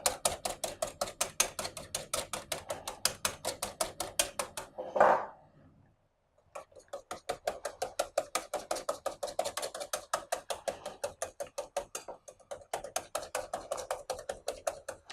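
Cream being whisked by hand in a large bowl, a fast, steady metallic clatter of the whisk against the sides, pausing briefly around the middle before resuming at the same brisk pace.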